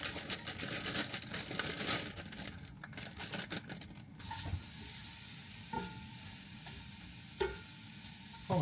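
Food sizzles in a warm pan on a motorhome stove, close and steady, with busy scraping and stirring strokes through the first half before the frying settles into an even hiss with occasional pops.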